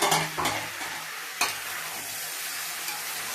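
Vegetable curry sizzling steadily in a pan as a spoon stirs it, with a few sharp scrapes against the metal early on over a constant close hiss, no voices.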